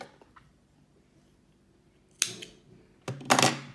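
Scissors snip the yarn tail of a knitted double moss scarf, a couple of short, sharp crunchy cuts coming after a quiet stretch with faint handling noise.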